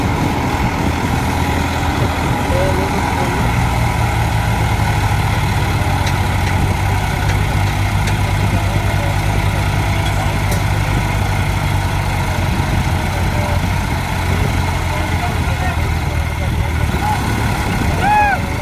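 Two tractors strain together to pull a stuck trolley, a loud, steady low engine drone that holds for the whole stretch while voices talk over it.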